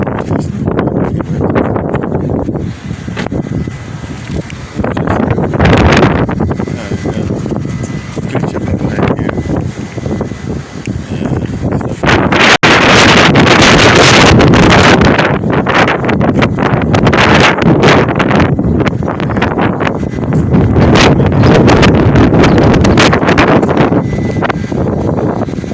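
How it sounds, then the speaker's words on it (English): Strong wind blows outdoors, roaring and buffeting the microphone in continuous loud gusts that grow heavier halfway through, with rustling underneath. "it's super windy"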